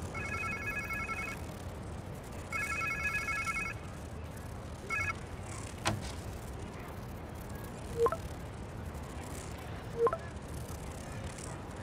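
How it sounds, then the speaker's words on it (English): A phone in the video game Marvel's Spider-Man 2 rings in short trilling bursts, two long rings and a brief third, fairly faint over quiet ambience with a few soft clicks. "Sounds like somebody's phone."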